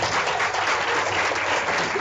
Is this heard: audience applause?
yes